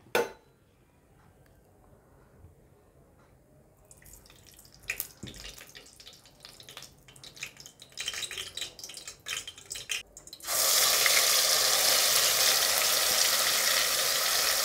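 Spices crackle and sizzle in hot oil in a kadhai for spicy stuffed brinjal, starting with scattered light taps and clinks, then breaking into a loud, steady, close hiss that holds to the end.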